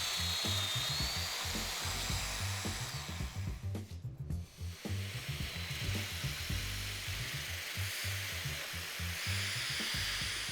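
A power tool cuts mortises into a wooden panel for a mobile MFT cart, grinding loudly and steadily with a brief dip in the middle before carrying on.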